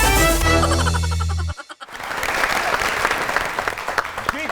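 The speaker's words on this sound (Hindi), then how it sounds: "बहुत तालियां होनी चाहिए डॉक्टर साहब के लिए" A studio audience on a comedy talk show bursts into applause for a doctor guest, following a brief musical sting and a short gap, with brisk, fairly close clapping through the remainder.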